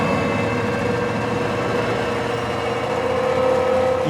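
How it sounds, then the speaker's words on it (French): An old vehicle engine labouring on a dangerous mountain road in Tajikistan, a steady, loud mid-pitched drone with a sustained whining tone and no letup. "est obligé de tirer sur son vieux moteur."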